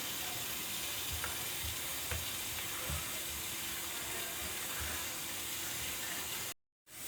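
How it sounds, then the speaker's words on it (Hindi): Tamarind chutney bubbling in a pan, a steady soft hiss and simmer with a few faint low plops, continuous and close, ending in a brief silence. "व्यूअर्स देखें, इसमें उबाली आ रही है, इसको भी और गाढ़ा करेंगे अच्छी तरह।"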